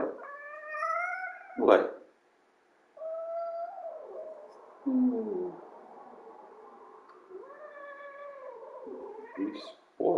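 A pet house cat meows repeatedly in drawn-out, complaining cries, close and fairly loud, with a voice briefly speaking between the calls.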